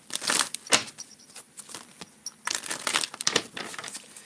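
Tarot cards riffled and shuffled by hand in quick crinkly bursts, several close rustling flurries separated by short pauses.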